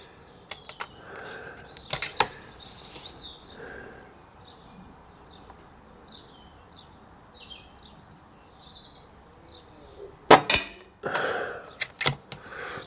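A BSA R-12 CLX Pro .22 air rifle with a carbon bottle fires outdoors. Scattered mechanical clicks lead up to a sharp, loud crack near the end, while birds chirp faintly in the background.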